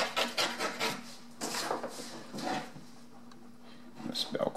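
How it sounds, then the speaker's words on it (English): A scrub brush scratching across a PVC blackout screen makes bursts of rough, raspy scraping strokes, close and fairly loud, with pauses between and a voice speaking in the background. "you can scratch the screen. You can scratch your screen. I'm using a scrub brush right here."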